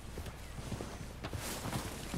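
Horse hooves clip-clopping at a walk in Red Dead Redemption 2, a steady, fairly quiet run of soft hoof steps over low ambient game noise.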